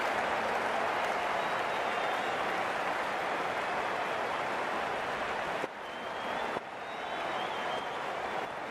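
Crowd applause in the Cricket 19 video game during an India versus New Zealand World Cup match, a dense, steady roar of clapping that fills the whole stretch, dipping briefly near the end before swelling again.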